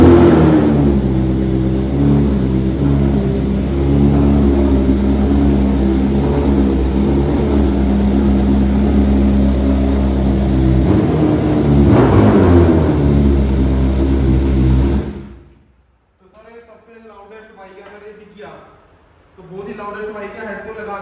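A BMW S1000RR superbike engine runs loud and steady with a rising rev surge near the middle, then cuts out abruptly, leaving a quieter stretch where people talk.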